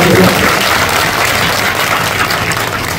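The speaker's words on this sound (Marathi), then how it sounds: "त्यांच्यासाठी जोरदार टाळ्या आपण सर्वांनी." Loud sustained applause from a crowd at a political rally in Sangamner, dense clapping filling the space at close range without pause.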